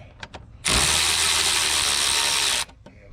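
A tool works loose the intake clamp on a Subaru STI, giving a single loud, steady mechanical burst of about two seconds with a few faint clicks before and after.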